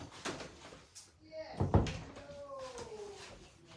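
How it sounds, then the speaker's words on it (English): A door being shut at home, one solid thunk landing in the middle of the clip with a short rattle, surrounded by quiet room noise and faint background sounds. "So let me shut my door."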